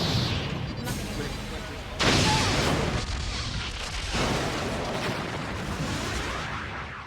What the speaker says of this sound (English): It's too late. The Borg cube is firing. Evasive maneuvers.